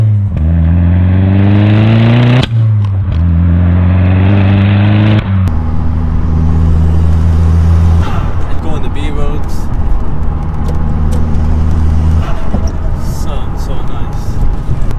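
An Audi S3 engine revs up repeatedly, rising in pitch through the gears, loud and close, then settles into a steady drone.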